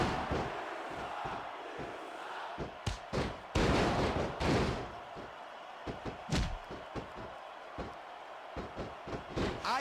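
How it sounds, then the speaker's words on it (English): Video game wrestling arena crowd from WWE SmackDown! vs Raw 2006 on PS2 roars in bursts, with surging cheers over sharp slams and impact thuds from the ring. Loudness rises and falls throughout. "I can't remember the last time I seen a crowd so pumped up"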